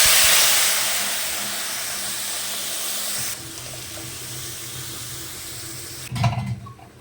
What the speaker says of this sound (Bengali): তেলটা গরম হয়ে গেছে, এবার মশলাটা দিয়ে দিচ্ছি।